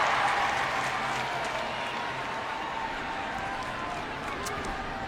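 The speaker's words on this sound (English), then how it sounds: "That cheer you heard was for Ashlyn Harris getting a touch on the ball." A large stadium crowd at a USWNT versus Thailand women's soccer match sends up a broad, sustained roar of cheering, dense and distant-sounding, holding steady throughout.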